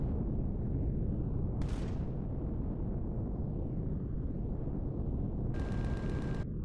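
Incoming gunfire aimed at the player in Empyrion Galactic Survival (Reforged Eden mod), a heavy continuous rumbling barrage with a sharp impact crack and a later rapid ticking burst, dense and booming throughout with no voices.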